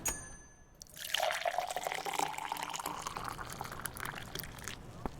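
Coffee pouring in Cafemart Simulator, a steady liquid stream filling a cup with a rising trickle tone, close and moderately loud, lasting several seconds.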